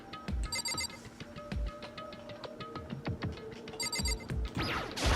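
An electronic chime rings repeatedly in the Danganronpa game, bright tonal bursts recurring at intervals over quiet background music, with no speech.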